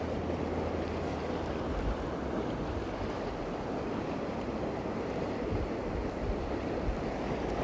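Choppy river water churns at a fly fishing spot, a continuous loud rushing wash with no voices over it.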